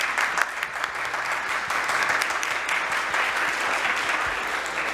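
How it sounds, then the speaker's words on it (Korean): Church congregation at a Korean worship service applauds to welcome a new member, a steady wash of moderately loud clapping from many hands, heard alone without talk. "다들 따뜻한 박수로 환영해 주시면 감사하겠습니다."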